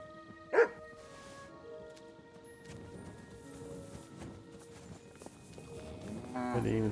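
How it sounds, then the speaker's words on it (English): A dog in the medieval video game Kingdom Come: Deliverance 2 gives one sharp, loud bark, followed by quieter game ambience with footsteps and hoof clops, and a voice briefly comes in near the end. "Track! You silly doggy."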